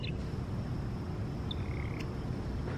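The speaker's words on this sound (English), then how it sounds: "Is a toad right here in front of me?" A toad outdoors in Texas gives a few faint, brief croaking chirps against a steady background hiss.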